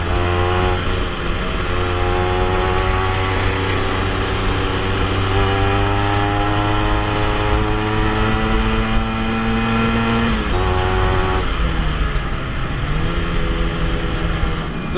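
The engine of a Yamaha RG Sprinter 91 motorcycle on a test ride drones steadily and loudly up close, its pitch rising through the gears and dipping briefly at each shift.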